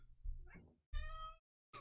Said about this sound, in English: My cat is going nuts again.